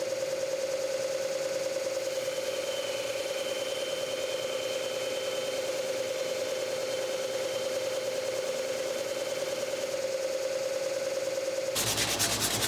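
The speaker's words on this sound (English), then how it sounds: "Really small pieces, I will continue to use this disc sander method." A disc sander grinds against small scrap wood pieces with a steady, droning whine and a constant rubbing hiss. The pitch stays level for nearly the whole stretch, then cuts off into a brief, brighter scrape at the end.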